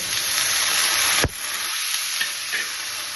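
Eggplant dropped into hot oil with salt for a mashed-eggplant dish, bursting into a loud, steady sizzle with a sharp clatter as it lands and occasional stirring scrapes, no voices.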